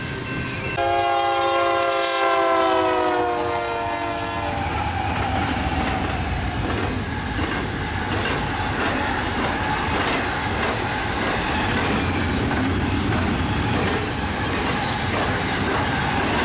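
A westbound Union Pacific train near Dunlap, Iowa sounds its horn in several long loud blasts, then rolls past with continuous heavy rumble and clatter.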